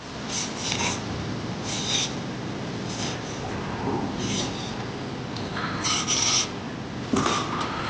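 A knife scores slits into a whole tilapia being readied for a village-style grill, giving a close, raspy scraping with several short bursts of cutting strokes spread over steady background noise.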